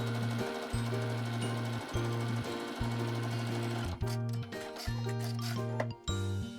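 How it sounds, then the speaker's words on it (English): A sewing machine stitches fabric scraps together with a 1/4 inch seam while piecing a patchwork bag panel. Rapid, rhythmic mechanical chugging runs nearly nonstop with brief pauses, close and prominent, with no voices. "sew it all in place using a 1/4 inch seam allowance again"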